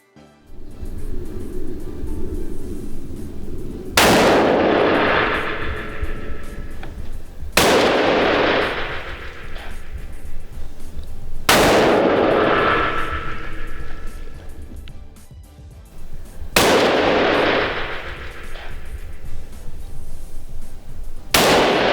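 Suppressed rifle shots during a driven hunt: four loud, muffled reports several seconds apart, each with a decaying tail over a steady outdoor background.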